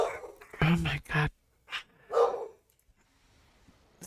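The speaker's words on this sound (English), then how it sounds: "the dogs are barking at cars as they go to work" Dogs barking before sunrise at cars passing by, a few short close barks and panting in bursts, with quiet gaps between them.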